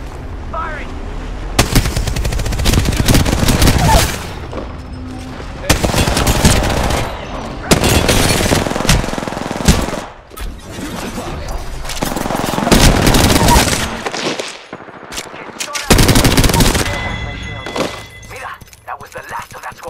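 Shooter video game combat with dense, loud bursts of automatic gunfire and explosions, broken by short gaps, while a voice talks over parts of it.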